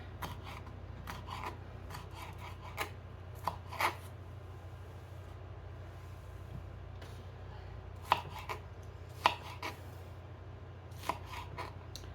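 Bell peppers chopped with a knife on a cutting board in a home kitchen: sparse, crisp taps and slices coming in small irregular clusters, close and fairly quiet over low background hum, with no talking.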